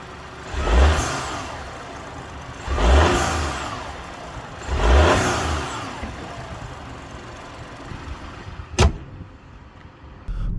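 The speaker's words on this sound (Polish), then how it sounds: "jak mocniej depniemy, no to silnik charakterystycznie warkocze" A BMW X2 sDrive20i (U10) three-cylinder engine revs hard three times in a row, each surge rising and falling with a gruff mid-range growl, followed by a sharp click near the end.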